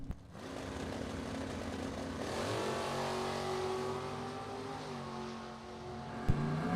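A Camaro and a '57 Chevy drag racing side by side down the strip, engines roaring at full throttle in a steady sustained rumble with rising pitch, loud and close with no talk.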